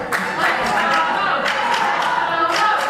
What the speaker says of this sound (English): listen to this crowd, Mo's had enough of this